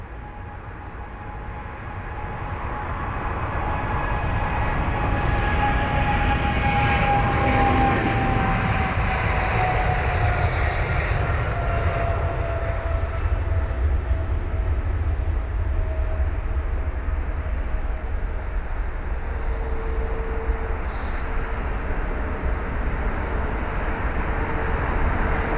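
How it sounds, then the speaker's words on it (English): A British Airways Boeing 777 takes off from Heathrow, its engine roar building over the first few seconds into a loud, steady, sustained rumble that holds near and constant to the end. "Beautiful stuff on that BA777. Amazing, just rocketing out there."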